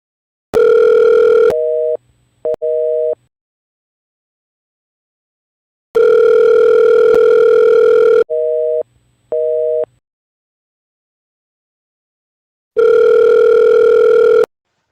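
A telephone tone sounds as a call is cut off: a loud, steady long tone followed by two short beeps, repeated three times with silent gaps between, alone and close.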